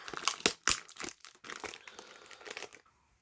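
Packaging around a collection of Flaro fountain pens is unwrapped up close: loud, irregular crinkling and tearing in quick bursts, easing off before stopping.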